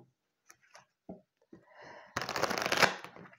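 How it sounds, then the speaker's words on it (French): Oracle cards being shuffled by hand, a dense riffling flutter of about a second after some soft rustles and breaths, close and fairly quiet. "je vais prendre un petit peu une petite carte d'oracle des Médéors."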